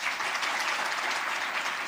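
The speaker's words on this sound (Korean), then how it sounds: "뜨거운 박수로 격려합니다." Warm applause from a church congregation at a Sunday service, steady broadband clapping filling the whole stretch without a break, no voices over it.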